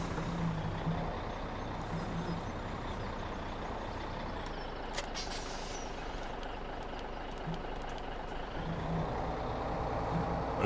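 Truck reversing in Farming Simulator 17, with a steady engine drone and intermittent backup beeps, a few near the start and more toward the end.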